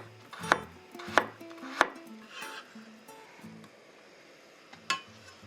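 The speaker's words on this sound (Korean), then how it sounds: "오이는 먼저 세로로 길게 잘라주신 뒤에 길이가 4cm 정도가 되도록 어슷하게 편썰어 주세요." Knife slicing cucumber lengthwise and then on the diagonal, with carrot cut the same way, on a cutting board in a kitchen; three sharp chops close together, a soft scrape, then one more chop after a pause.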